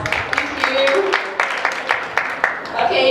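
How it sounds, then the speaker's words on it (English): Sparse, scattered clapping from an audience at an e-commerce session, with a handful of distinct claps dotted across a few seconds, moderately close and fading to a light patter. "Let's give him a round of applause."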